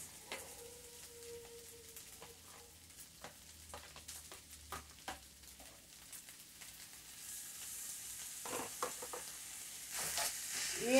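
Ground meat and tomato frying in a pan, a quiet steady sizzle with scattered clicks of stirring and scraping, growing a little louder toward the end.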